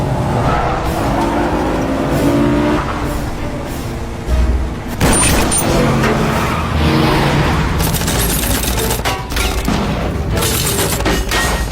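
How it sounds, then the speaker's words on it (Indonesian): Action-film car chase: revving engines and loud screeching tire skids, with sharp impacts and bangs cutting through the constant roar of the speeding cars. "terjadilah aksi kejar-kejaran"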